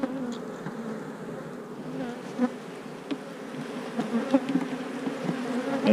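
Bees buzz close by, a continuous droning hum with occasional louder passes as individual insects fly near.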